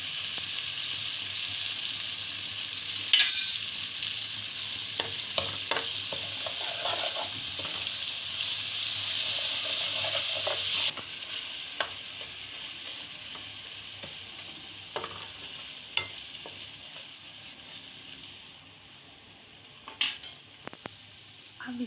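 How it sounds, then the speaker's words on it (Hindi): Masala for stuffed round gourd fries in a pan, with a soft steady sizzle under repeated scraping and clinking of a spoon stirring against the metal, the sizzle louder at first and then quieter. "इसको अच्छी तरह से भूनेंगे"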